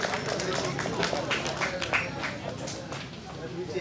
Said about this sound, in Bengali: সকলে একটু হাততালি দেবেন।